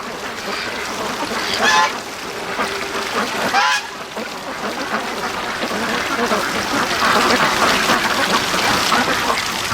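Free-range ducks quack and honk steadily near a creek outdoors, a dense chorus of calls with louder bursts around two and four seconds, under a constant wash of background noise and a faint voice.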